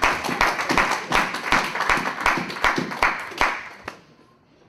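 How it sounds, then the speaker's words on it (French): A church congregation claps together in a steady, fast rhythm of sharp hand claps, loud and close, fading out near the end. "Acclamons la parole de Dieu."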